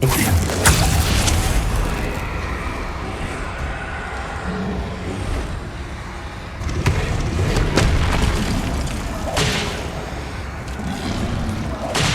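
Repeated booming spell blasts from Bombarda, Depulso and Confringo in the wizarding video game Hogwarts Legacy, loud whooshes and crashes landing every few seconds over a constant dense rumble of combat.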